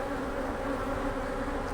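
Honey bees buzz in a dense, steady drone at an open hive during a hive and honey super check, close and continuous with no talk.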